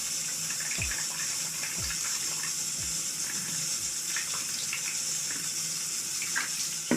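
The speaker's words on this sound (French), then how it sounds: "Donc maintenant je vais mettre un peu d'eau dans la terre." Water trickles and splashes steadily into the soil of a potted house plant indoors, a soft continuous pour with a few faint gurgles and no talking.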